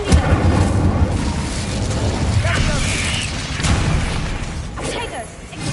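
A fire spell cast in the Hogwarts Legacy wizarding game, a rumbling whooshing burst with booming mechanical combat noise, loud and close, with a voice talking through part of it.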